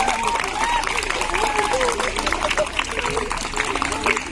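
An audience claps at a Holi celebration in Tilak Hall, a dense, continuous patter of hands in a hall, mixed with crowd noise and a voice speaking over it.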